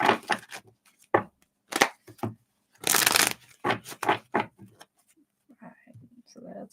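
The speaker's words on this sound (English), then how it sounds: "I'm going to give these a few shuffles." Tarot cards shuffled during a live reading, a series of quick riffling, chopping bursts of varying length, close and fairly loud, with quieter faint talk in the final seconds.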